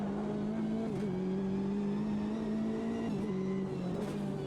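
Chevrolet Corvette C8.R GTE race car engine at Long Beach in the racing game Automobilista 2, a steady droning engine note heard from inside the car, with brief shifts in pitch as it lifts and accelerates.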